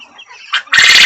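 Young chicks on a small farm, kept on a mesh floor: a few faint, high peeps followed by a sudden loud, close burst of shrill cheeping.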